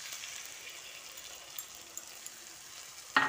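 Soaked spice paste goes into a hot frying pan with tomato, giving a quiet, steady sizzle with a few light ticks and a sharper burst right at the end.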